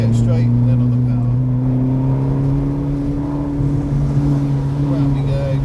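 Ferrari California V8 engine drones steadily at close range on Castle Combe Circuit, a loud continuous tone that rises slightly under power, with wind and road noise and an instructor talking over it.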